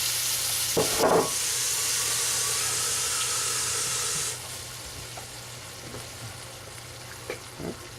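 Red wine poured into a hot pot for beef stew, a loud steady hissing sizzle that suddenly drops to a quieter simmer halfway through, with a few light clinks.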